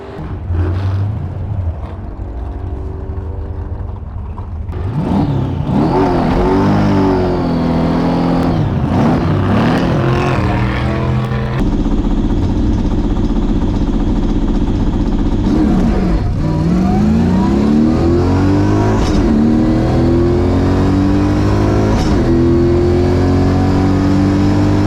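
A supercharged 700 hp drag car roars loud and close down the drag strip lane, its engine climbing through repeated rising shifts under hard acceleration, with no voices over it.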